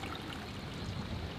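Water runs steadily near the Captain Cook's Landing site at Kurnell, a continuous close-up rushing and gurgling wash with no voices over it.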